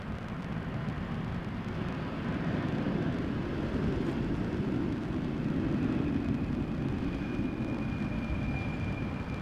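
A small LOT Embraer jet arrives at Amsterdam Schiphol in showery weather, its engine noise a faint, steady distant roar that grows slightly louder partway through, with no voices.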